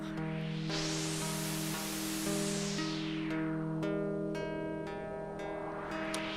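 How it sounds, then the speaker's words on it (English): A modular synthesizer puts out white noise swept open and closed like a filtered wash, blended with a sustained drone and a plucked tone, steady and mid-level with no voices. "just go back to the white noise with the Pluck"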